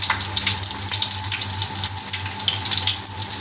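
Chopped onions dropped into hot ghee in a home kitchen pan while making aloo methi, giving a steady, fairly loud hiss and crackle that holds evenly throughout, with no talking.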